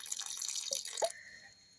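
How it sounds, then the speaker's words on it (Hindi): Water is poured from a small glass into a pressure cooker holding lauki and chana dal: a short splashing pour with a couple of drips, ending in quiet. "अब आधी गिलास मतलब छोटी वाली गिलास से इसमें पानी डाल दूँगी"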